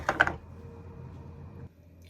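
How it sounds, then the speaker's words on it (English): Blended vegetable purée is poured into a pot of Ghanaian wrewre soup: a short splash, then a steady, soft, wet pouring sound for about a second and a half before it stops. "So I'm gonna pour in our blendables gently in here, like so."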